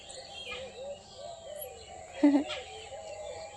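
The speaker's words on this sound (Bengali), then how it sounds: "এই যে গেছে গাছে দেখো পাখিগুলো কিরম করছে" Several birds chirp and call in short repeated phrases from trees on a foggy winter morning, moderately near, with a louder chirp in the middle and a faint hum beneath.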